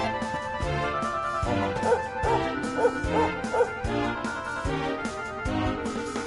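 A dog barks in quick yip-like bursts in Dragon Quest XI, the sharp calls repeating over steady game music.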